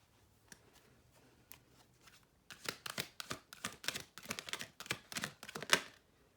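A deck of oracle cards being shuffled, quiet and sparse at first, then a rapid run of crisp riffling bursts and flicks, close and alone with no talk.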